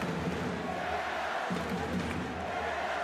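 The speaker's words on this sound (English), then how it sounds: "listen to the crowd here in the Berlin Mercedes-Benz Arena" Greek basketball fans chanting in Berlin's Mercedes-Benz Arena during a EuroBasket 2022 game against the Czech Republic, a dense, steady roar of a large crowd filling the hall, with commentary faintly underneath.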